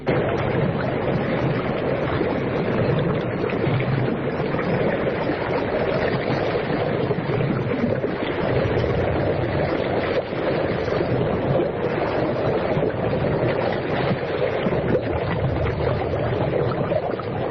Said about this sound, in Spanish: Yo escucho personalmente un sonido del mar y había una especie como de burbujeo o algo extraño, como muy interior